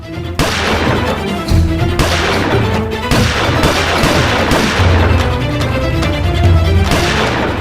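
Loud gunfire erupts during a street chase, with repeated sharp shots and bursts cracking one after another over a dense, continuous background.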